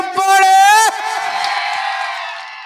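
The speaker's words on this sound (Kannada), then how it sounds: "ಜೋರ ಚಪ್ಪಾಳೆ" A comedy stage show audience erupts with a loud whooping shout followed by a broad wash of crowd cheering that slowly fades over a few seconds.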